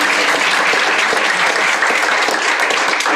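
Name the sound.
audience applause for the speakers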